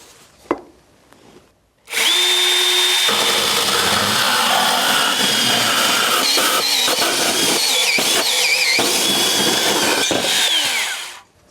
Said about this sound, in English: show you how smoothly this piece of kit cuts through